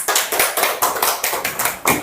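A classroom of students applauding after a group presentation, a brief burst of rhythmic hand claps repeating about every quarter second, close and fairly loud.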